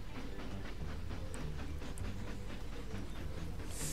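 Trains run in the railway-building video game Mashinky, a faint, continuous mechanical rolling and clatter with light periodic clicks, steady throughout.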